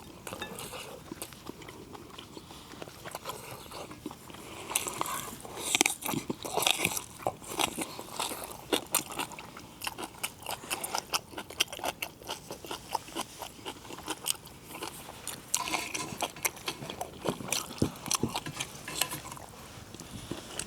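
Close chewing and biting while eating braised yellow corvina with bracken, with a string of small crunchy clicks and soft wet mouth sounds, some cutlery taps, fairly quiet and without talk.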